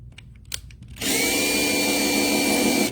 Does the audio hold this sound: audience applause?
no